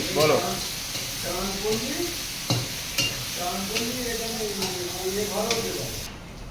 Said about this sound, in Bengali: আদা রসুনের পেস্টটা দেওয়ার পরে খুব সুন্দর করে মশলাগুলো কষিয়ে নেব